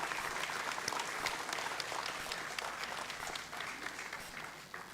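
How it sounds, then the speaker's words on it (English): Dense, continuous audience applause at the IIM Calcutta 60th Foundation Day ceremony, steady throughout and easing slightly toward the end. "A big round of applause, please."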